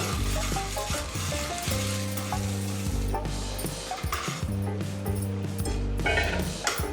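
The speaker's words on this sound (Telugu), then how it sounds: "ఇందులో వేసుకొని ఫస్ట్ బాగా కలుపుకోవాలండి" Roasted gram being stirred into cardamom sugar syrup, a close, steady sizzling and scraping with a soft spoon stir, over a sustained tonal hum in the background.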